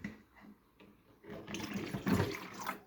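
Lukewarm water pours into a container indoors, starting quietly and then swelling into a louder splashing stream near the end, with no talking.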